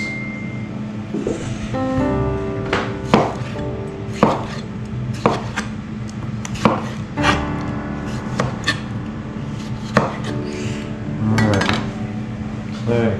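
A knife chops through tomatoes on a cutting board in a home kitchen, a quick run of sharp, uneven knocks with clinks of utensils and pans, close and loud, with occasional speech in between.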